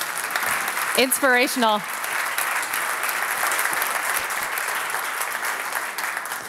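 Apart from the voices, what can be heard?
audience applause for a keynote speaker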